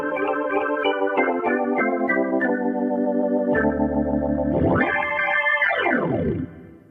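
A Casio CTX-3000 keyboard on an organ voice with effects plays sustained chords, then a deep held bass note, with sweeping pitch bends up and down before it fades out; no voices.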